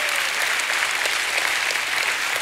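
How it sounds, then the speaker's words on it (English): A church congregation gives a hand clap of praise during a Sunday worship service, producing continuous, even applause from many hands that sounds moderately distant and holds steady throughout. "give God a hand clap of praise"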